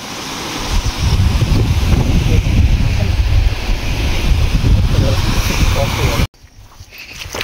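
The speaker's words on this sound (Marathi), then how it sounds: "हा त्याचा मेन धबधबा आहे जो आपल्याला खालून वरती दिसत होता" Main waterfall at Rangana Fort roaring as a loud, steady broadband rush close by, mixed with wind buffeting, cutting off abruptly near the end.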